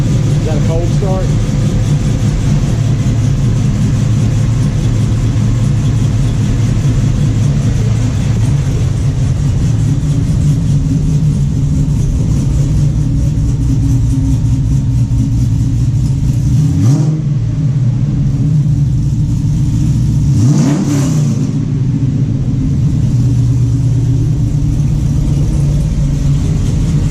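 A Chevy Nova drag car's engine idles on a cold start with a lopey, choppy cam rhythm. Two sharp revs rise and fall partway through, all loud and close, with people talking over the rumble.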